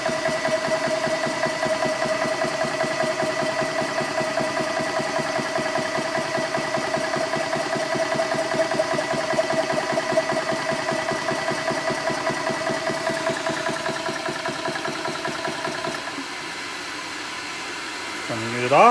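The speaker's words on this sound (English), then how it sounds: "Start the unit. Close the bleeder. Let it run up to 2000 psi and auto stop." A pressure unit runs steadily with a close, continuous mechanical drone and rhythmic pulsing as it builds toward 2000 psi, then its sound drops off near the end.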